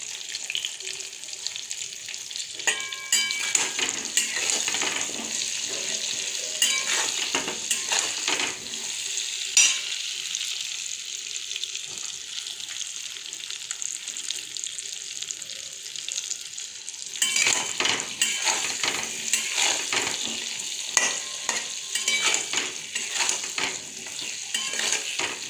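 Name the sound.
frying vegetables with turmeric and salt in a pan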